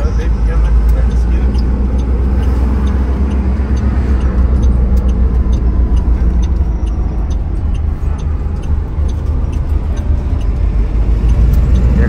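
A large new truck rolls along at driving speed, heard from inside the spacious cab as a loud, steady engine and road rumble with a faint ticking over it.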